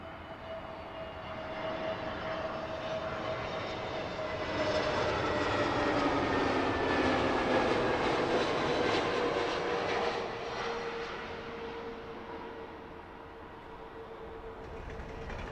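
An Egypt Air airliner lands on runway 09 left at Heathrow in calm wind, its engines a steady loud roar. The noise swells as the jet passes and then eases off over a sustained, continuous rumble.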